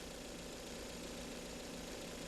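Carburetor gasoline engine idling during an idle mixture adjustment, a faint, steady, even drone with no change in pace.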